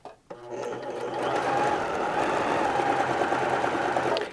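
A Baby Lock Zest sewing machine runs a decorative stitch, a steady close-up mechanical whir starting after a brief click and holding evenly for about four seconds.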